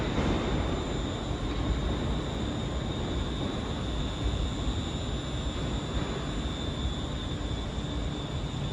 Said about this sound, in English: departing out now is the 10:30 Scotrail service starting here at Glasgow Central, going to Ayr